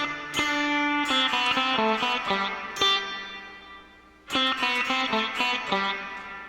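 A melody is picked on guitar, a run of distinct single notes and short phrases that ring out, pausing briefly before the line restarts, close and clear with no one speaking.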